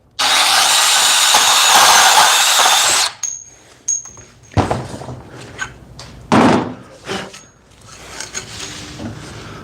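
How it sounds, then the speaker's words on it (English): A bandsaw cuts through metal stock in an electrician's shop, a loud steady broadband rasp lasting about three seconds, then stopping, followed by scattered knocks, clatter and handling noises. "Nice straight cut with the bandsaw."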